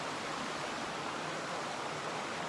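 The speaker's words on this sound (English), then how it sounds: "We're kind of on the converge of two creeks running together right here." Steady, even rush of water where two creeks flow together at a campsite near Buena Vista, a continuous close hiss with no pauses and no voices.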